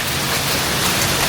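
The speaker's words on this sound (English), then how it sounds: "We got hail coming down." Hail pelts down during a crazy thunderstorm at an off-grid homestead, a loud, dense, unbroken hiss of impacts filling the whole moment with no voices over it.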